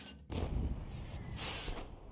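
A Bishop self-propelled artillery gun fires in War Thunder, one heavy close boom with a sharp onset followed by a long rumbling tail that stays loud through the rest of the moment.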